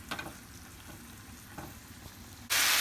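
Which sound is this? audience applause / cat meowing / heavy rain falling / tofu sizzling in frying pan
tofu sizzling in frying pan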